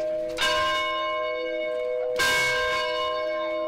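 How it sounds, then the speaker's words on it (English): An old elementary school bell rings twice, each strike a loud, clear metallic clang with a long humming ring that carries on between the strokes. "the sound of the old bell rang off the hills again in a final salute to the generations"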